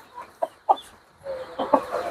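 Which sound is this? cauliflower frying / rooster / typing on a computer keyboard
rooster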